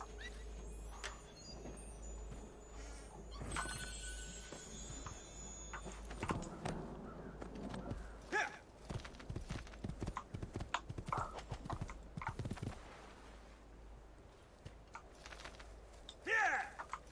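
Hooves of a horse in the video game Assassin's Creed II clop on hard ground in irregular bursts, fairly faint, with occasional mechanical clicks and a brief whinny-like sound near the end.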